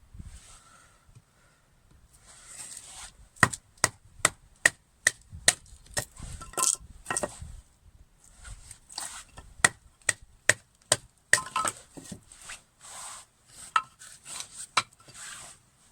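A Marttiini puukko knife with a rat-tail tang splitting thin sticks outdoors, a series of sharp, close wooden cracks and taps in quick bursts, separated by quieter rustling handling.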